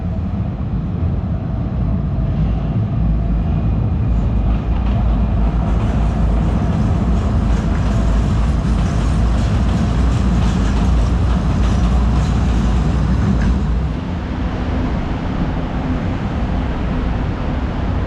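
A train passes in Alberta with a loud, steady rumble and rolling wheel noise that holds for about eighteen seconds, then eases slightly near the end; no one speaks.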